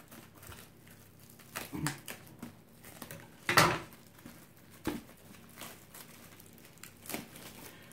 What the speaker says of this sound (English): Finally, we get rid of the sandwich wrap.